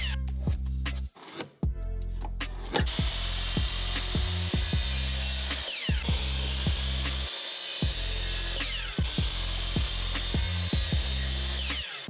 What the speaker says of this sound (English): We're gonna head to the miter saw.